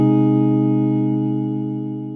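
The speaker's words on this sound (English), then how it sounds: "You remove all of that and you get this kind of warm sound that sounds like this." Muted electric guitar with a warm clean tone and no distortion, sounding a single sustained low chord that rings on and slowly decays, alone and fairly loud.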